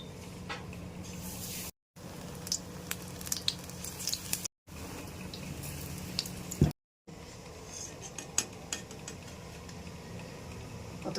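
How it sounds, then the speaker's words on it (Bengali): Chops of yam and green banana coated in gram flour and wheat flour batter fry in hot oil, giving a steady soft sizzle with scattered crackles and pops, close and fairly quiet, broken by a few brief silent gaps. "ভাজবো তেলে।"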